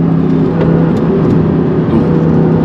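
A loud, close Audi R8 engine runs at high revs with a steady, droning roar and a slight rise and fall, heard from inside the moving car with no talking.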